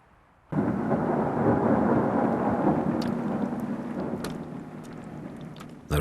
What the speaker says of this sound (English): The rain begins reluctantly, with no sign of the coming cloudburst.